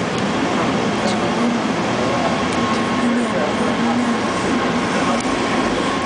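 A subway train roars steadily through an underground tunnel, a dense constant rumble with faint squeals, and a voice talks over it.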